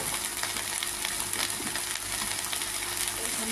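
Leafy greens frying in a pan after salt has gone in, with a steady close sizzle and soft scraping stirs running under it throughout, and no talking.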